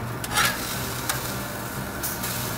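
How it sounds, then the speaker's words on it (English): A fish fillet on a hot grill, flipped once with a spatula for fish tacos, gives a short scrape and a steady sizzle and crackle that hold throughout, with a few brief louder bursts, and no talking. "Get your spatula in there and just flip it."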